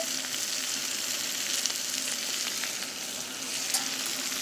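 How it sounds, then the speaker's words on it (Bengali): Crushed garlic sizzles and fries in hot mustard oil in a pan, a steady close crackle with scattered small pops and no voices. "এখানে একটু সর্ষের তেল দিয়ে দেব রসুন থেতো করে রেখেছি তেলে দিয়ে দিচ্ছি"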